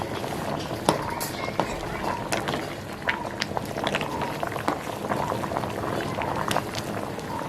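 Water bubbles and roils steadily in a pot for cooking cassava, a continuous close hiss with scattered small pops and splashes, with no clear speech.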